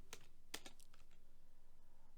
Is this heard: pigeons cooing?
no